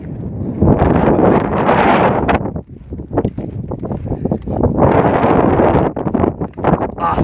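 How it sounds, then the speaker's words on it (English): Heavy wind buffets the microphone in loud, rumbling gusts that come and go, briefly easing in the middle before roaring back. "it's very windy right now"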